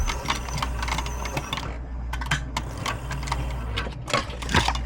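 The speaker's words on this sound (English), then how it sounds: "I just want to show you really quick how I sew loops." A Cobra Class 4 heavy-duty sewing machine stitches ammo loops, running in a steady rapid mechanical rattle with brief pauses and restarts, close and fairly loud.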